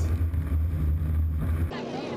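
H350 hydroplane race boats drone at full throttle during a race at St-Félicien, a loud low engine roar with wind noise that cuts off abruptly near the end, while a commentator talks over it.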